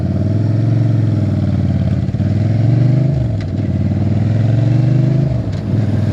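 Motorcycle engine idles steadily at close range with a deep throbbing rumble, rising in a couple of smooth revs that swell and settle back, no talk.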